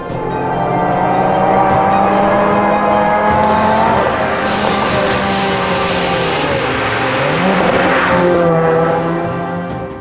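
A Lotus Exige Scura sports car, one of a 35-unit series, drives hard, its engine note rising and falling loudly and steadily throughout, with tire noise and heavy braking mixed into the close, continuous roar.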